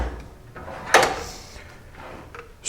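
A tool drawer slides and knocks shut with one sharp clack, followed by a faint rattle and a softer bump at the end, with no one speaking.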